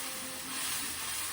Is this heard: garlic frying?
yes